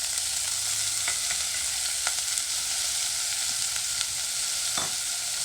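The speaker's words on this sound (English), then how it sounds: "I'm going to dump in the green peas." Green peas and turmeric powder sizzling in a hot pan, a steady, close hiss of frying with occasional light clicks and scrapes as the food is moved around.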